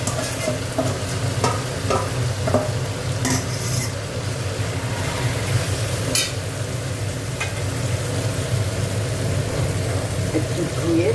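Chicken stir-frying in a hot pan with gondhoraj lemon leaves, a steady close sizzle under repeated scraping stirs and scattered clatters of the utensil against the pan.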